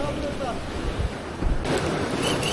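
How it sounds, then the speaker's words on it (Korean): Sea waves wash and crash against a breakwater along the coast at Uljin, a dense roar with surges of surf and some wind buffeting the microphone. "파도가 쳐가지고."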